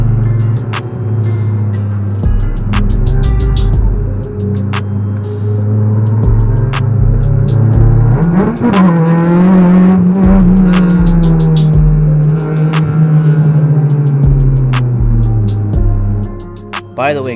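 A yellow 8th-generation Honda Civic lapping the track at Toronto Motorsports Park during a Honda Super Meet session, its engine droning loud and steady before the revs climb sharply midway and then hold a sustained high note, with brief crackling pulses throughout.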